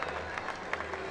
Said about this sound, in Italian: Adesso sta ricevendo l'applauso del pubblico Giacomo Bosetti.